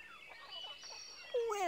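Cartoon chickens clucking in the Windows 3.1 game Magic Tales: Liam Finds A Story, a short run of faint, quick clucks ending in a louder, higher squawk.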